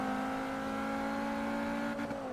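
Car engine in Forza Motorsport 3 on the Sweden club track, holding a steady high-revving drone with a constant tonal whine, loud and continuous with a slight dip near the end.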